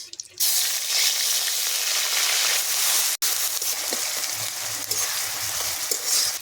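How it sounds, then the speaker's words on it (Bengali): Dry red chillies, garam masala and onion fry in a pan for a Bengali fish curry, giving a loud, steady hiss and crackle that starts abruptly and runs throughout, with one brief break midway and no talking. "এইভাবেই সব ভেজে নেব। শুকনো লঙ্কা আর গরম মশলা, পেঁয়াজ,"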